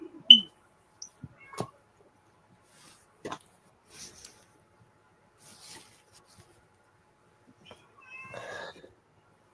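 A cat meows several times indoors in a quiet room, short scattered calls with pauses between them, one sharper cry near the start and a longer, rougher call near the end.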